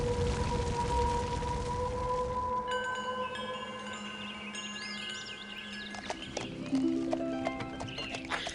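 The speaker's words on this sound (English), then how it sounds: "It's a horse, of course." A horse in the city-building game Zeus/Poseidon neighs and whinnies amid clip-clopping hooves, with tonal game music and interface chimes layered over it, fairly loud and close.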